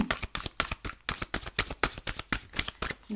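A tarot deck is shuffled in quick riffling bursts, about three per second in a steady rhythm, close and fairly quiet, with no voices.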